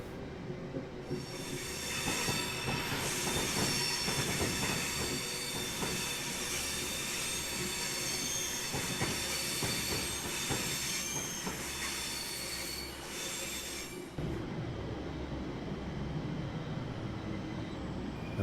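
Class 350 electric multiple unit braking into a station in the Train Sim World 2021 game, with loud sustained wheel squeal and screeching over rolling rumble and clickety-clack for most of the clip, easing off near the end.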